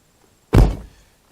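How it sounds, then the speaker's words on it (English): The door of a 2011 Ford Edge shuts with a single solid thunk, close and loud, then fades quickly into quiet. "Let's see if I can shut the door here."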